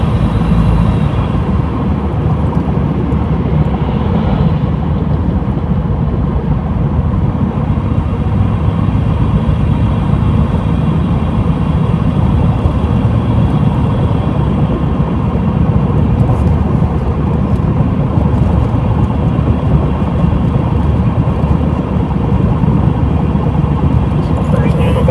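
Car cruising along a bypass road, a continuous, even drone of engine and tyre noise from inside the cabin that holds steady throughout.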